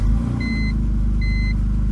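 A BMW E46 engine running steadily after a fuse replacement, a low even rumble close by, with two short electronic beeps sounding over it.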